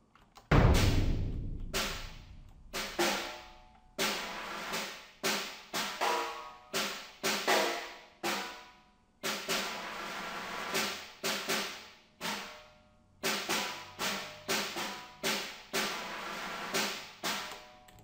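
A snare drum plays alone: separate hits and short rolls in bursts with gaps, some strokes swelling louder, crisp and close.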